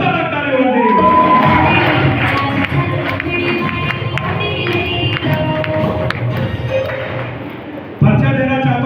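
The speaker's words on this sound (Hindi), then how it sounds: "खतरनाक ताली होनी चाहिए।" Loud clapping and cheering from an audience at a marketing business meeting in Gujarat, a noisy crowd with shouts, thumps and voices over the clapping, dropping briefly before a renewed burst.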